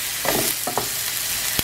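Cauliflower rice with added vegetables sizzles steadily in a hot pan, a constant close frying hiss broken by a few brief stirring scrapes and clicks.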